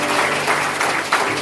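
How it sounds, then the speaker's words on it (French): Audience clapping at a community group gathering in honour of members asked to stand, dense steady applause filling the whole stretch with a few louder surges. "Sur votre applaudissement."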